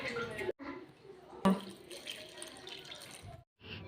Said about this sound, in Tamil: தேவையான தண்ணி எடுத்துக்கலாம் குழம்புக்கு.